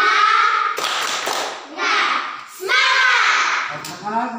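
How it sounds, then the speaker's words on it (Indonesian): A children's class in a school lesson does a rhythmic spirit clap, with bursts of claps mixed with loud young voices chanting along in a lively, uneven rhythm. "Tepuk semangat."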